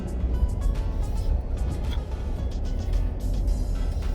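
A 2019 Ford Ranger Wildtrak pickup drives off-road over sandy ground in low fourth gear, its engine a steady, close rumble with continuous road and wind noise and no talk.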